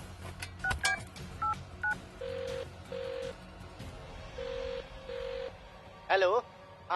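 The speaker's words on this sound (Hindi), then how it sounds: "अजय अब अपना मोबाइल निकाल लेता है और गांव के बाहर बनी पुलिस चौकी में दरोगा यशवंत को फोन मिला देता है।" A mobile phone dials out, sounding short keypad tones in quick pairs, then a steady repeating ringback tone with gaps, ending in a brief burst as the call connects, all close and clear with a faint background hum.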